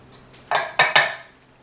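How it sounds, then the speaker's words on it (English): A spoon scoops cooked egg yolks out of the whites, making three quick, close clinks and scrapes against a dish with no talking. "Start off by scooping out the yolks."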